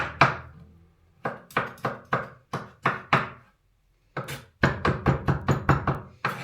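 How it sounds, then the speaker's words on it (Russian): Knife chopping scooped-out tomato pulp finely on a board: a steady series of sharp, close thunks in quick bursts, pausing briefly before a faster run of cuts, with no talking. "то, что мы внутри выковырили, мы их меленько вот так вот нарезаем"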